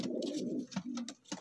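A pair of teddy pigeons cooing close by, a few short throaty coos with soft breaks between them, clear and alone.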